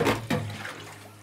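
Stock poured into a pot while cooking Ghana-style grilled tilapia, a short splashing gush followed by a softer trickle close by.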